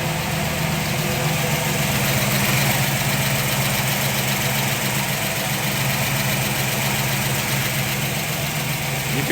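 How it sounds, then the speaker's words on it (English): A 1969 Camaro Z/28 with its DZ 302 V8 idles steadily nearby, a constant broadband rumble with fast mechanical ticking of the lifters running through it for the whole stretch, no voices. "You can hear the mechanical sounds of those lifters."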